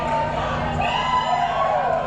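A crowd at a Little League Intermediate 50/70 World Series elimination game between New Jersey and Hawaii cheers and shouts in a steady, loud wash of noise.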